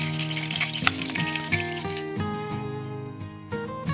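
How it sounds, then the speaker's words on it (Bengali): Pieces of pointed gourd (potol) fry in hot oil in a Bengali kitchen, giving a steady close-up sizzle and crackle with occasional stirring, no talk. "এবার এই ভাজা পটলগুলো আমি তেল থেকে তুলে"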